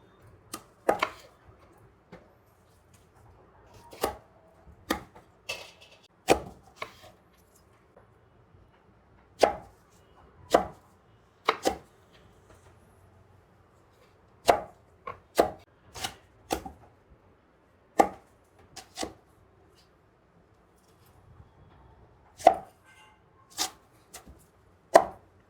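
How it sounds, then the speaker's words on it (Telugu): A knife chops raw mango into pieces for pickle, making sharp, sparse thunks on a cutting board, sometimes single and sometimes in quick pairs, close and clear against a quiet background with no talking. "అన్నిటినీ ముక్కలు కోసేసామండి పచ్చడికి"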